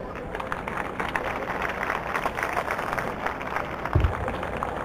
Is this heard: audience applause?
yes